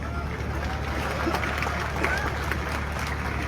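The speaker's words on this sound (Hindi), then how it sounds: "अच्छा, तालियां बजा रहे हैं" A crowd at a 2023 Rajasthan election rally for Kirodi Lal Meena claps amid a low murmur of voices and steady hum, the scattered applause fairly soft and blended into the hubbub.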